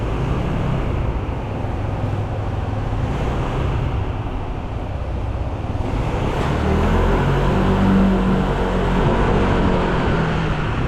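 Cars belonging to Taiwanese residents pass along a road, a steady broadband roar of traffic and tyre noise with some wind. The sound is loud and continuous and swells slightly near the end, and no one speaks.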